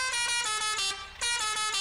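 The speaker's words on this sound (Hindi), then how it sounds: "हॉर्न कहाँ पे गया भाई" A horn in Spintires: Mudrunner blares steadily and loudly in several long, close blasts with a short gap midway, from an old rusty DT 75 tractor in a hill-climb test.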